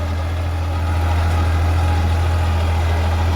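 A 50 hp tractor engine runs steadily while driving a rotavator, giving a loud, continuous low drone with an even idle-like throb throughout and no voices.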